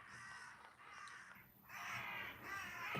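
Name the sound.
crows cawing outdoors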